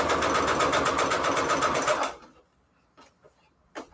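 A sewing machine runs steadily at close range for about two seconds, then winds down to a stop, leaving quiet with a few faint clicks and taps.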